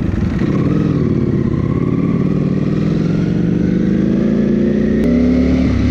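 A Ducati V4 motorcycle engine drones loud and close while riding through city streets, with the pitch of its revs climbing gradually under steady acceleration before a brief sharp click near the end.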